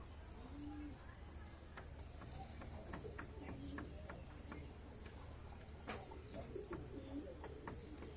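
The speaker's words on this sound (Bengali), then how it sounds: "এই যে কবুতর বাসা এখান থেকে পানি খাই" Pigeons coo softly in low repeated calls at a village pigeon farm loft, against a constant hum, with scattered light ticks and taps throughout.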